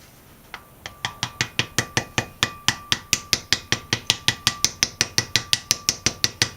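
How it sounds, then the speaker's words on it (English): Hammer blows tap a seal into a wheel bearing hub through a plastic driver, a close, sharp series of about two dozen evenly spaced strikes that grow slightly louder and ring briefly after each hit. "Use a hammer and put the seal on."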